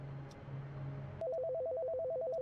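A telephone rings in a video game, a steady warbling electronic ring that pulses evenly after a brief low tone and a sharp click, clear and fairly loud with no voices.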